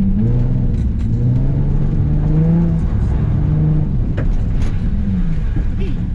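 A Nissan 350Z drifting on track, its engine droning and rising as the throttle opens, heard from inside the car with a voice talking over the steady roar.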